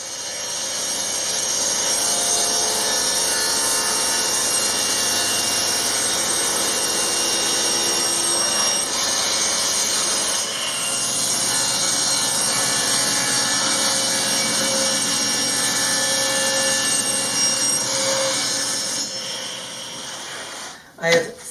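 Continuous power-saw cutting of wood pieces into RV pantry dividers, a steady loud whine running unbroken for about twenty seconds with slight shifts in pitch, then stopping abruptly at the end.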